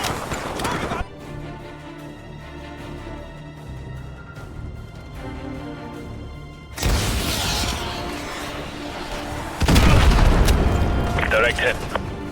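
In the Modern Warfare 2 video game, AGM missiles strike a target: two loud, heavy booming blasts, the second the biggest, erupt after a stretch of quieter game ambience and radio-style voices.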